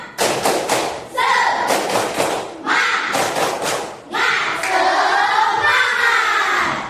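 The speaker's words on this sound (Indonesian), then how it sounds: "Ibu akan mengajak anak-anak melakukan tepuk semangat." Children in an Indonesian classroom perform a 'tepuk semangat' spirit clapping chant, loud rhythmic bursts of group claps in short volleys alternating with shouted, chanted voices.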